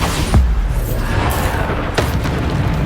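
Bombarda blasting spell explodes in the Hogwarts Legacy game, a deep booming burst near the start and another thump a moment later over a dense, rumbling game soundscape.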